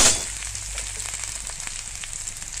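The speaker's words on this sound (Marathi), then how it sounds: "हे दोनच मिनिट परतायचं आहे" Peas and paneer sautéing in a pan for a Marathi matar paneer dish, a steady soft sizzle with a brief louder crackle at the start, then low, even frying with faint stirring ticks.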